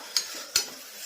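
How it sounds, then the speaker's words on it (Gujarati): Spices sizzle in hot oil during a tempering, a faint steady fry broken by two sharp spoon clinks against the pan. "સરસ મજાનો વઘાર થઈ ગયો છે"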